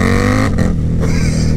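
A KTM Super Duke 1290 R motorcycle engine roaring loud and close, a dense rumbling drone that dips briefly and then rises again as the throttle comes back on.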